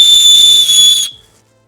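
A shrill, piercing single-tone blast from an orange safety whistle clipped to a hiking backpack, very loud and close, held steadily for about a second before cutting off abruptly into silence.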